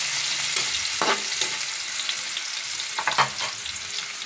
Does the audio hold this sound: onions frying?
yes